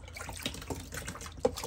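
Water drains from a kitchen sink with faint, soft gurgling and a few small drips, ending in a slightly louder glug.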